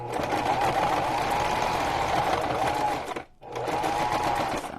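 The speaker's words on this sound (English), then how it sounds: "This sewing machine really hates me." A sewing machine stitching the cover of an ocean-life junk journal, running in a loud, even, continuous whir that breaks off briefly before starting up again.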